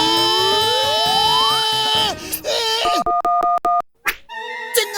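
A cartoon public telephone gives a steady electronic dial tone, loud and close, followed by a quick run of clipped beeps and short tonal pulses.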